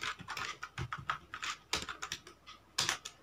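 Quick bursts of keystrokes on a computer keyboard while entering HTML table tags, irregular clusters of close, crisp clicks with brief pauses between words, no voices heard.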